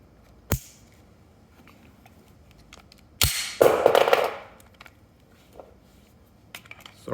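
Glock 19X and Glock 19 Gen 5 pistols fire at a shooting range, two sharp separate shots with quiet gaps between them, then a short louder burst of noise and a few faint clicks.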